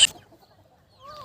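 Aseel chickens on an open free-range poultry farm give short clucks, with a brief burst at the start and another toward the end over a quiet gap.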